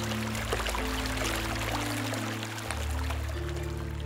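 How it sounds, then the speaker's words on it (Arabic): Fresh spring water from an oasis spring in a desert valley runs steadily through a stream, a continuous pouring, trickling wash alongside a low steady hum. "وتسيل رقراقة تسقي البساتين والنخيل"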